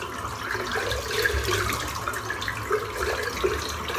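Tap water runs steadily and close at hand as a shaving brush is rinsed under the faucet, a continuous splashing wash with no talk.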